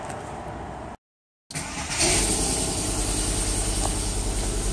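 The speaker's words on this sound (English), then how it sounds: "then I can start the vehicle up and have the motor running while I check that" A VW, Skoda, SEAT or Audi with a four-speed 01M/01P automatic transmission cranks and catches after a brief silence, then settles into a steady, close idle.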